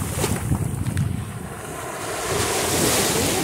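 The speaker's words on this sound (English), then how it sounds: "I'm trying to find the sand dollars where the waves come in and out" Ocean surf washing in and out along a shallow, murky beach at Honeymoon Island, a steady broad wash of breaking water with wind buffeting the microphone, swelling slightly louder toward the end.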